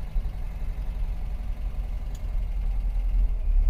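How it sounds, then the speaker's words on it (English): A 1971 MGB GT with a 1800 B-series engine and twin SU carburettors idles with a steady low rumble, close and continuous, with no talk. "a torquey 1800 B-series engine with a bark of twin SU carbs"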